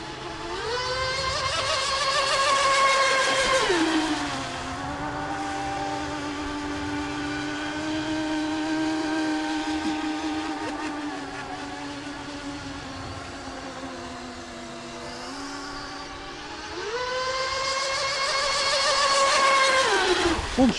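A TFL Mini Zonda RC boat motor whines loudly and continuously, its pitch dropping and holding lower through the middle before rising again toward the end, with no voices.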